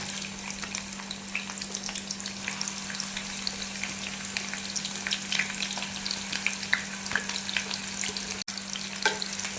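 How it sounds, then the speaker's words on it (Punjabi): Onions fry in hot oil with a constant, dense crackling sizzle, close and even, with light spatters and an occasional stir throughout. "ਘੱਟ ਤੇਲ ਵਿੱਚ ਵੀ ਇਹਨਾਂ ਨੂੰ ਪਿਆਜ਼ ਨੂੰ ਫਰਾਈ ਕਰ ਸਕਦੇ ਹੋ"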